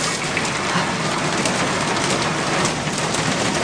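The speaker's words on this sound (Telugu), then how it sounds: "వర్షం వస్తుంది" Heavy rain falls steadily, a dense, loud, unbroken hiss of drops close by that holds constant throughout, with no voices.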